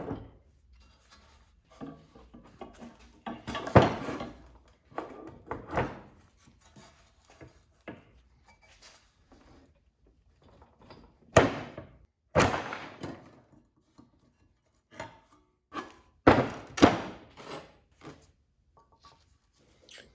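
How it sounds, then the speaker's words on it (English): Metal scraping, knocks and thunks ring out as a brake rotor is worked off the front hub of an Alfa Romeo GTV, irregular bursts separated by quiet pauses. "Now I'm trying to pull off the rotor."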